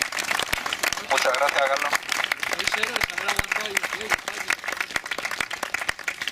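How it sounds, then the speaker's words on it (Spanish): An audience applauds speaker Carlos Sánchez Mato at the close of a colloquium, the clapping rising into a dense, irregular patter under a voice speaking briefly near the start, continuing loud and uneven to the end. "Pido un aplauso para Carlos Sánchez Mato, por favor."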